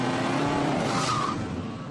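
A turbocharged four-wheel-drive Subaru Impreza, a scaled-down rally car, launches hard onto a test track. A loud, steady engine roar with tire noise fills about two seconds.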